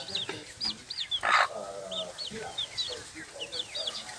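Native chickens on a small egg farm cluck and chirp repeatedly close by, with a louder squawk near the middle and soft background noise.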